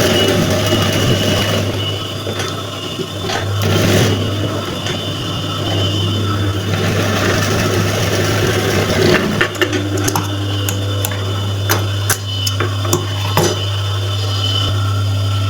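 A sewing machine stitching the pocket of a man's kameez drones with a constant low motor hum, with scattered clicks and taps of handling the fabric throughout.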